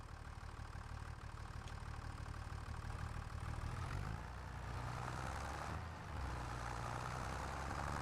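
A small tractor engine in the farming game Farming Simulator 25 hums in a steady low idle at faint, even volume, with a brief dip and change midway and no talk.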